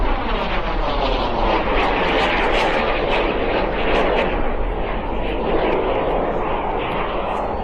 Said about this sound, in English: this was the first of the aircraft, the jet mini aircraft, to come from the Subsonics factory